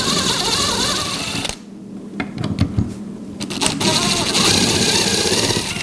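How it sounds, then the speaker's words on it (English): A power drill with a combination bit bores self-centering screw holes for a hinge, its high whine running, pausing for a moment of near silence with a few clicks, then winding back up. "We're gonna go ahead and use our combination bit here, and we can self-center these holes."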